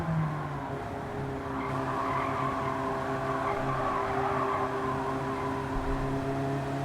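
A Honda Beat kei car drives the Nürburgring in Gran Turismo 7, its small engine droning steadily with layered harmonics and some tire noise throughout.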